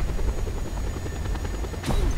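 A helicopter in the video game Just Cause 2 drones steadily with a loud, low rotor thrum, close and continuous, ending in a short sharp burst of noise.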